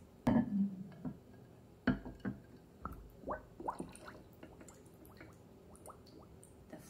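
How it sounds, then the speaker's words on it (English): Wet bubbling and gurgling near at hand as air releases under a jar over candles in water, a few squishy pops at first, then a run of small drips and bursts fading out. "You can hear some air releasing through those bubbles."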